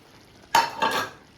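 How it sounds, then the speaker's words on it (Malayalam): Chicken chukka with onion and curry leaves is stirred in a pan, two brief scraping clanks of a spoon with a faint sizzle under them, close and alone. "അപ്പോൾ നന്നായിട്ടൊന്ന് ഇളക്കാട്ടാ"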